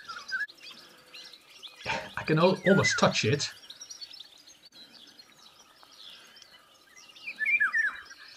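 A golden oriole calls in Beira, Portugal, close by, with clear whistled notes at the start and end and someone speaking quietly in between.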